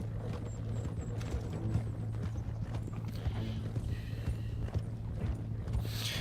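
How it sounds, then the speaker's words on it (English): Horse hooves clip-clop steadily at a walking pace in Red Dead Redemption 2, fairly faint, over a low ambient hum with an occasional soft whinny. "I think my horse is not happy right now."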